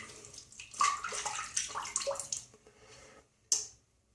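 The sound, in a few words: water splashing while wetting face before shaving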